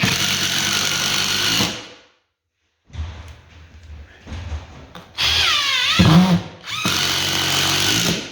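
A power drill drives construction screws into a wooden floor patch, with loud sustained whirring bursts separated by a silent pause and quieter handling noise, and a brief squeal as a screw seats.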